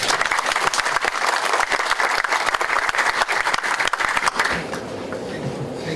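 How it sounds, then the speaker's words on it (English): An audience at a mathematics workshop applauds a speaker with dense, steady clapping that stays loud for several seconds, then thins and fades toward the end. "Please join me in a warm round of applause for our speaker."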